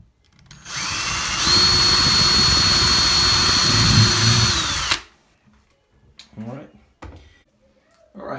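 A power drill with a slightly larger bit whines loudly for about four seconds at a steady pitch while drilling into a bathroom cabinet, then stops abruptly, followed by some quiet shuffling and handling noises.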